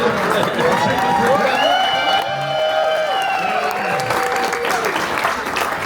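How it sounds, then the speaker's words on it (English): Audience applause at a concert at the Music Box Supper Club in Cleveland, Ohio: dense, steady clapping from a crowd with whoops and sustained tonal sounds running over it throughout. "I don't know if he's going to be really that happy with that applause"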